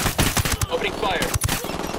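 Bursts of video game gunfire crack out in quick, uneven volleys over a dense game soundscape, loud and close, with faint voices briefly mixed in.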